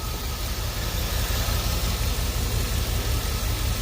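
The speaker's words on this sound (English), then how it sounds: "It's misfiring. Yep, reduce engine power." A 2003 Chevrolet truck with a 6.0L engine, running in reduced power mode, idles roughly with a loud, uneven low rumble and a pulsing misfire throughout, with no talking.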